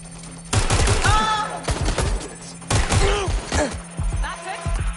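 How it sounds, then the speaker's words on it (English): Gunfire in the video game Watch Dogs Legion comes in two loud, dense bursts of rapid shots with short gaps between them, while game voices speak over and around the shooting. "Taking fire."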